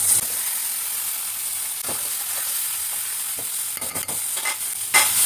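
Katla fish head and potatoes being stir-fried in a pan, with a steady close sizzle and scraping stir strokes that run throughout, and a few brief louder bursts of frying.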